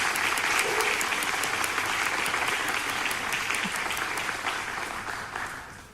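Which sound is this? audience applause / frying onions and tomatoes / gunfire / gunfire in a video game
audience applause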